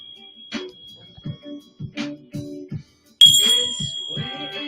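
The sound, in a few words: meditation bell being rung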